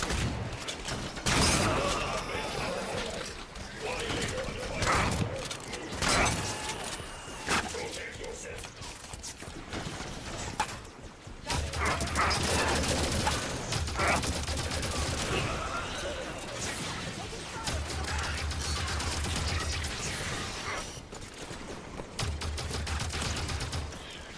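Rapid gunfire in Halo 5: Guardians rattles in sustained bursts with thumping impacts and mechanical clanks, loud and near, filling the dense combat soundscape almost throughout.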